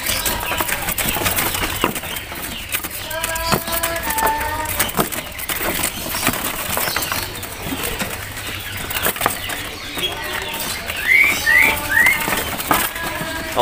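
Caged kacer (oriental magpie-robin) birds in a bird shop give short whistled calls and chirps, with wing flutters, cage rattles and a busy shop din around them, moderately close.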